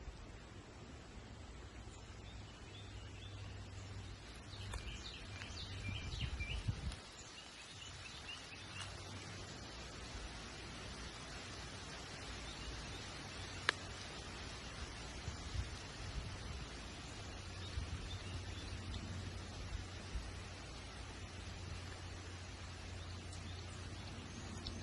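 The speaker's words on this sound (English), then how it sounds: "You can hear the birds calling to one another." Birds call faintly now and then across a quiet natural woodland with young hickory trees and wild blueberries, set against a steady wash of soft background noise, with no voices.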